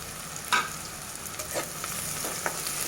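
Sliced onion sizzling in oil in a pan after a pinch of salt is added, a steady close frying hiss broken by a few stirring scrapes, with no voices.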